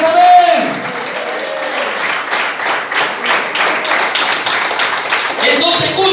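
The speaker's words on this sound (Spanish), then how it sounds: "Aplaudan que vive." A church congregation claps together during a sermon, a steady, fairly loud wash of applause with a few voices mixed in.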